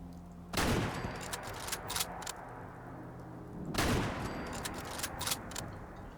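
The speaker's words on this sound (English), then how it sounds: "Oh, what are you guys shooting at now?" Settlers firing guns in Fallout 4, two bursts of rapid gunshots roughly three seconds apart, each a cluster of sharp cracks trailing into scattered shots over a steady background hum, no talking.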